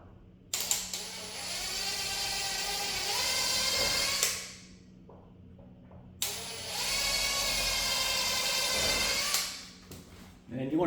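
A power drill whines through a wooden window casing in two long bursts, each ending in a winding-down whir, with a few small clicks between them.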